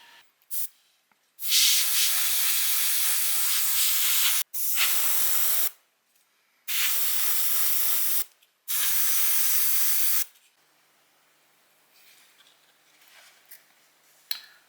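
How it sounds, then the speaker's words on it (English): Chrome-colored spray paint hisses from an aerosol can onto the headlight of a 1/10 scale RC car model in four steady bursts of a few seconds each, close up, with short pauses between them and no talk. "So now I spray this part of headlight with same color."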